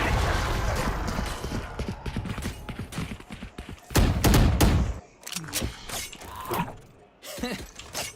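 Valorant match gunfire: rapid bursts and single shots with clattering mechanical weapon sounds, loud and close, broken by short pauses and a heavy blast-like surge midway.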